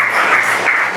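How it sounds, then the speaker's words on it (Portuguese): A church congregation applauds during a worship service, a loud, steady wash of many hands clapping together that fills the whole short moment with no pause and no voices over it. "aplauda o Senhor Jesus bem forte"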